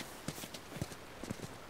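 Horse hooves clip-clop in the video game The Last of Us, several quiet, close hoof strikes at an uneven walking pace.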